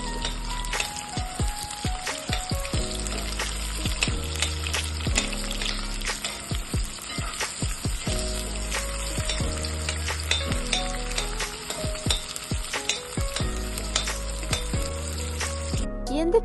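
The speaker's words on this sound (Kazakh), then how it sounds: "қазанның түбіне кішкене өсімдік майын құйып, үстінен пиязымызды салып жақсылап тұрып қуырып аламыз" Chopped onions fry in a little vegetable oil at the bottom of a kazan pot, a soft continuous sizzle with occasional light metallic clinks, over a steady tonal background.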